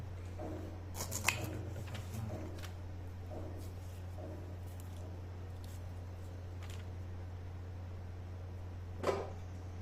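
Moringa drumstick pods being cut into small pieces in a home kitchen, a few crisp snips and clicks that come close together early on and then sparser, over a steady low hum.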